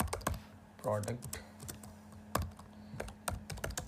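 Fingers type on a computer keyboard in short bursts of close, crisp key clicks, with a brief murmur of a voice partway through.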